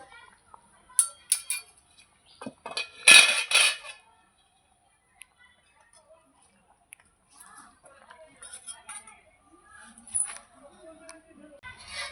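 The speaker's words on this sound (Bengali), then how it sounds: "ধনে পাতা দেওয়ার পরে ঢেকে রেখেছিলাম এবার ঢাকাটা তুলে নেব" Metal lid lifted from a pot of simmering fish curry (katla, with gourd stems, potato and coriander leaves), giving a few close clinks and scrapes followed by quiet spells and light bubbling.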